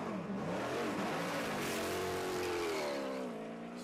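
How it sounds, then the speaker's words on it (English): A 5-liter Ford V8 race car engine moving up the pit lane at the 2012 Rolex 24 at Daytona, a loud revving roar with rising and falling pitch, fading slightly at the end. "Sweet sound of that 5-liter Ford V8 thundering up the pit lane here."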